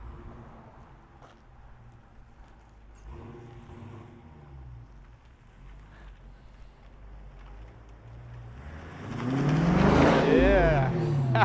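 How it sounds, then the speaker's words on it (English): Exhaust of a Dodge Challenger R/T Scat Pack, 485 hp and under salvage rebuild, rumbles low in the background before swelling into a loud, close rev near the end, with people talking over it. "I love the sound of the exhaust makes."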